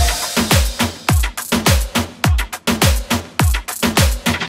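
A programmed percussion groove in a moombahton rhythm, with punchy kicks dropping in pitch and bright snappy hits in a syncopated, steady pattern. The beat is loud, dry and upfront, with no voices.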